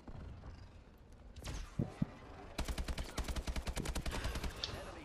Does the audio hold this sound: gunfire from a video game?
yes